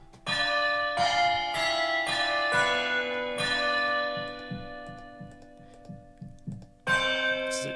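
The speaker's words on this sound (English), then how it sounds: "Right, there we go. Let's go church bells." Synthesized church bells from the Omnisphere Nylon Sky sound library chime a sequence of strikes, each ringing on and fading, then a pause before one more loud peal.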